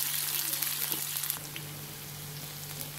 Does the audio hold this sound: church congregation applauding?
no